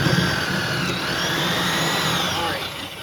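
A power drill bores steadily into wood while a bus rail is being removed. It makes a continuous, close, loud whine that holds for about three seconds and eases off slightly at the end.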